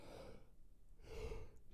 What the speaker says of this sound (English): Sorry, yawn attack.